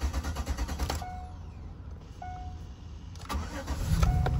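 A car with a reduced engine power fault cranks without catching, a near, loud starter churn that stops and resumes in short bursts, with brief quiet gaps between attempts.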